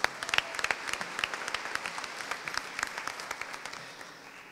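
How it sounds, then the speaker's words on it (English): Audience applause at an awards ceremony for classified staff, a crowd clapping in sharp, rapid, overlapping claps that slowly taper off toward the end. "Let's give him a round of applause as he comes."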